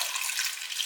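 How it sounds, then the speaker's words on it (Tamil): Water pours steadily into a pressure cooker holding sambar ingredients, a bright continuous splashing hiss up close with no talk. "இதெல்லாம் வேகிற அளவுக்கு இப்போ நம்ம தண்ணி ஊற்றிக்கலாங்க."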